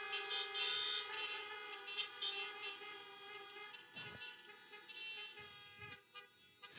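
Overlapping car horns honk continuously at an outdoor drive-in church service, a dense sustained chorus of tones heard from a distance, with a few brief louder bursts.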